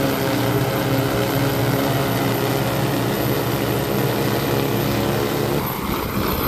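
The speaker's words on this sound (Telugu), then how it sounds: "ఓకేనండి, ఇంకా ల్యాండ్ అయింది చిన్న హెలికాప్టర్ అయితే 9X." A small 9X agricultural spray drone descends to land over a field, its rotors producing a loud, steady, close buzzing drone with layered harmonic whine that shifts slightly near the end, no talk.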